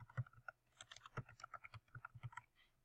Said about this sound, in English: let's type it out for you